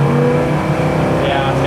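A 1974 Plymouth Cuda with a freshly rebuilt engine accelerates down the road, its loud, steady engine drone filling the whole stretch and rising slightly in pitch toward the end.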